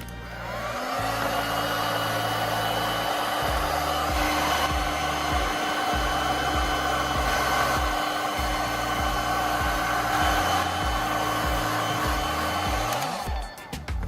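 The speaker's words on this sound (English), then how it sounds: "use a heat gun to carefully warm up the edges of the plastic tube" A heat gun blows hot air to warm the cut edges of a plastic tube. A steady, close whooshing hum continues throughout with a low pulsing drone beneath, and the tone drops as the gun switches off near the end.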